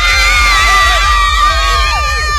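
A loud crowd at the 2017 student carnival in Caen, France, cheers and shouts, with high excited voices and whoops blending into a dense roar close by.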